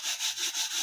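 Rhythmic abrasive scrubbing of a pot's sides with sand, close and loud, repeating in even back-and-forth strokes.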